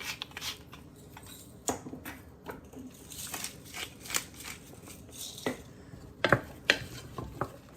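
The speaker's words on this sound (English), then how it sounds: "add our chopped thyme directly into our vegetables and sausage there. Just give this a good stir." Chopped thyme being stirred into vegetables and sausage in a pot: soft scraping and shuffling with occasional sharper knocks of the spoon against the pot, quiet and fairly close, with no speech.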